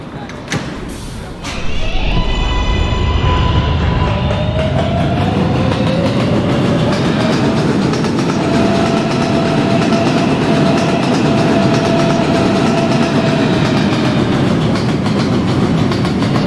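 An R143 R subway train bound for 74th Street, motor whine rising as it pulls away after a door chime and then a loud steady roar with rhythmic wheel clatter, with an announcement voice over the noise.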